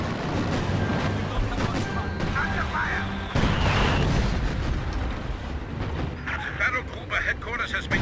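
Loud rumbling explosions and heavy artillery-like booms from a Company of Heroes 2 battle as a fortress is destroyed, a dense continuous barrage with a sharp burst near the middle, with game voice callouts over it.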